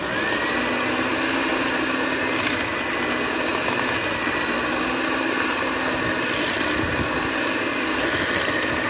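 An electric mixer runs steadily and loudly, beating brown and white sugar into melted butter for cookie dough, with a constant whirring drone throughout and no voices.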